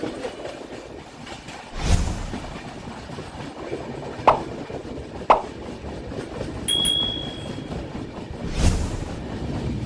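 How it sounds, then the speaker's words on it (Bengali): The 12343 Darjeeling Mail crosses the Bally (Vivekananda) bridge over the Hooghly at night, making a steady rolling rumble with clickety-clack wheel beats and a few sharp metallic clanks, heard from on board without voices. "দক্ষিণেশ্বর স্টেশন পার করে ট্রেন ঢুকছে হুগলি নদীর উপর বালি ব্রিজ বা বিবেকানন্দ সেতুতে"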